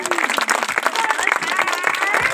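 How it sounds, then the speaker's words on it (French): Audience applause at a children's Christmas show in Chaniers, France, loud sustained clapping from a crowd with cheerful voices and whistle-like calls mixed in. "Est-ce que vous voulez bien applaudir, messieurs dames"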